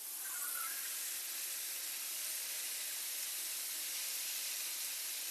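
A smash burger sizzles and steams on a Blackstone griddle, giving a loud, steady, close hiss that holds even throughout with no talking.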